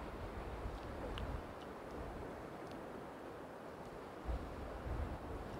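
Waves lap the shore of a beach on the west coast of Scotland, a steady broadband wash with wind buffeting the microphone and a few low rumbling gusts, with no voices.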